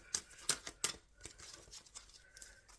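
Tarot cards being shuffled in a quiet indoor setting, giving a few sharp papery riffles and snaps in the first second, then softer rustling and light handling noises.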